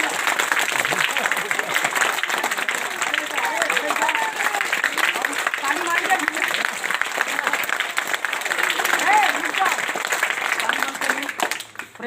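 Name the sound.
audience clapping loudly at street magic show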